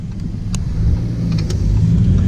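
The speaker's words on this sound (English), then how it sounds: "I'm gonna put it in automatic mode, and let's see how this thing will shift for itself" A Lamborghini Huracan Performante with a dual-clutch gearbox in automatic mode drives along, its engine a steady low rumble with a few faint clicks that could be gear changes.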